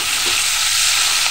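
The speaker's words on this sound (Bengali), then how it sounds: "আমি পেঁয়াজটাকে একটু হালকা একটু ভাজা করব" Onions frying lightly in oil in a frying pan for an okra dish, a steady close hiss and sizzle running evenly throughout with no voices.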